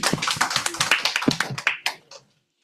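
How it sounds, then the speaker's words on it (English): A small audience at a Toastmasters meeting claps for a speaker, a brisk run of close, crisp hand claps that thins out and stops abruptly near the end, leaving silence. "let us give a round of applause to Toastmaster Sonny"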